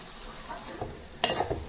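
Fish pieces coated in chili powder, salt and masala being stirred in a frying pan for a fish curry, giving a soft scrape and a short, louder burst of stirring near the end, close up with no talking.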